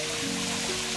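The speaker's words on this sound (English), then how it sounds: "Found this beautiful waterfall." A roadside waterfall gives a continuous, even rushing hiss of falling water, with no voices and nothing else breaking through.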